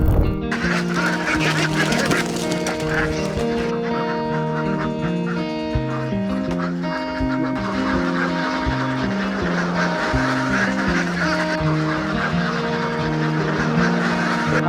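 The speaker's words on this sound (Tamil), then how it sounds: "ஒரு நூறு தாய் வாத்த வச்சு நாட்டு வாத்தும் ஒயிட் பேக்கிங் வந்து பண்ணிகிட்ருக்கோம்" A flock of about a hundred native ducks and White Pekin ducks on a farm quacks and honks continuously, loud and close, many calls overlapping in a dense, busy chorus with no talking.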